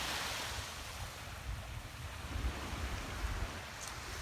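Ocean waves washing onto a natural beach, a steady broad rush of surf with rumbling swells and some wind buffeting the microphone, no voices.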